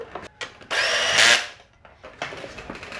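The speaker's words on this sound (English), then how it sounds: "I got my drill, my torque setting on my drill on 2." A power drill set to a low torque setting tightens bolts in one short, loud burst of about a second, with quieter clicks and handling noise before and after, during a Kia Soul automatic transmission replacement.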